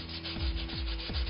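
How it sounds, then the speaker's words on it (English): Wood being sanded by hand with sandpaper, steady rhythmic rubbing strokes repeating about every third of a second, close and fairly quiet with no voices. "Sanding by hand, how come you're doing that and not like with a machine?"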